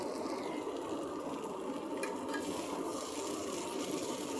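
Okra sizzles steadily as it is stir-fried in a pan, a soft, even crackle with faint scraping, no voices over it.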